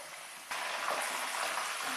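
Green curry leaves frying crisp in hot oil while making poha: dense, steady crackling sizzle that jumps in loudness after a brief quieter start, with no voices.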